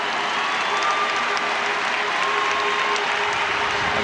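A big crowd cheers at the 2003 Laois v Kildare Leinster senior Gaelic football final, a steady, loud roar of cheering and applause that fills the whole stretch with no break.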